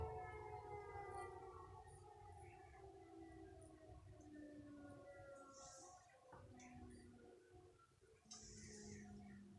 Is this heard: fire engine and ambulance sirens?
yes